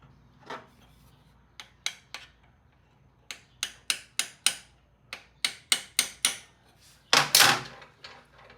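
A hammer taps a wrench onto a stuck oil bolt on a red BSA motorcycle: a dozen or so sharp, dry metallic clicks in an irregular rhythm, close and fairly loud, ending in a longer scraping clatter.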